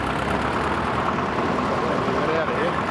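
Caterpillar 15 tractor from around the 1930s, its engine chugging steadily at a low, rough idle, close and continuous under outdoor ambience.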